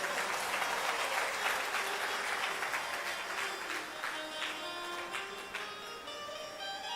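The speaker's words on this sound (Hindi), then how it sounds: "तालियां कुछ ज्यादा मरी मराई नहीं बजी हैं।" Audience applause during a Hindi spiritual discourse, many hands clapping in a dense, sustained wash that holds steady for several seconds, then thins slightly near the end.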